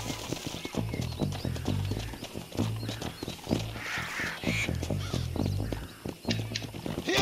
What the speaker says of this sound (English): Come on, horsey, go faster.